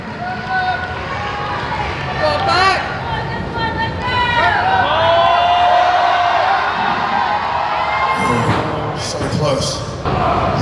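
A crowd cheers and hollers at a UK strongwoman competition during a dumbbell event in a power medley, with loud, rising shouts and whistles while an announcer talks over the noise.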